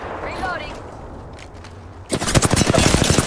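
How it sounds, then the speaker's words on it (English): Rapid automatic gunfire in a shooter video game erupts loud and close after a quieter stretch, a dense burst of overlapping shots with people's voices heard before it. "Careful, they're still shooting at us from the left, too."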